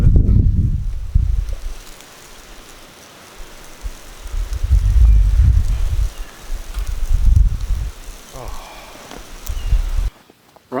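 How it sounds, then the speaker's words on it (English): Outdoor wind on a hot day buffeting the microphone in loud low rumbling gusts that rise and fall over a rustling background, with no voices. "the wind's blowing this way"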